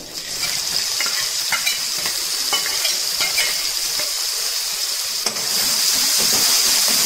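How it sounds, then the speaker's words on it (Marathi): Garlic and green chilies fry in hot oil in a pan, giving a steady close sizzle with faint stirring clinks, no talking. "सुरुवातीला 2 मिनिटं लसूण आणि मिरच्या परतून घेऊया"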